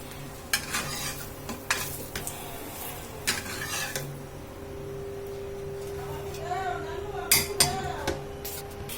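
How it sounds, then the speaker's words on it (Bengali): Sweet potato parathas fry in a pan, giving a low continuous sizzle broken by repeated sharp scrapes, clinks and knocks of a utensil on the pan, with brief pauses between bursts of handling. "এইভাবে পরাপর আমি পরাটাগুলা খুব সুন্দর করে ভেজে নেব।"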